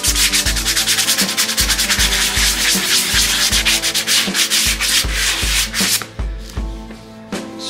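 A farrier's rasp files a horse's hoof smooth in steady, rhythmic strokes, loud and close, with a gritty back-and-forth pattern that slows to a few final passes near the end.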